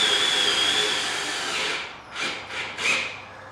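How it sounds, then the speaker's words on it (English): A power drill whines steadily as it drives a screw through an aluminum diamond-plate rocker panel on a Club Car golf cart, then gives several short, stuttering bursts near the microphone. "next we'll just take the screw and run it straight through"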